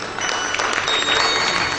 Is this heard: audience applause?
yes